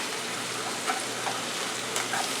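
Taco meat sizzles in a pan in a steady, dense crackle as it is stirred, with a few faint scrapes and pops rising over the hiss.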